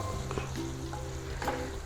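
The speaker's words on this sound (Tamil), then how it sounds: "இப்போ நல்லா கிளறி விட்டோங்க." Masala fries in a pan while being stirred, a brief steady sizzle with a couple of soft scrapes, heard alone.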